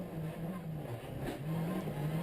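Race car engine droning steadily through a circuit race with Nicolas Bézard battling for third place, a sustained low mechanical hum with slight pitch shifts, fairly distant and moderately quiet.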